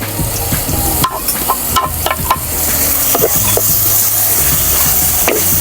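Onions, chillies and tomatoes fry in hot oil for a Kerala-style chicken curry, giving a steady close sizzle while a utensil stirs and scrapes the pan with several sharp knocks.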